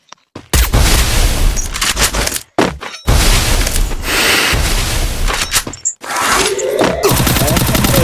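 Gunfire in a battle royale shooter game, loud dense bursts of rapid shots broken by short silences, with crackling impacts and booms, under a voice talking.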